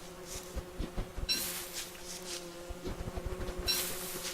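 Angry bees in the video game Don't Starve, a steady close insect buzz with a low drone underneath and bursts of brighter hissing swells, no talk over it.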